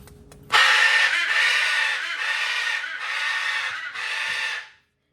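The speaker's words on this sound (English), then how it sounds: "That is my bird" A pet bird gives a run of harsh, crow-like caws, loud and close, in several connected bursts that cut off abruptly after a few seconds.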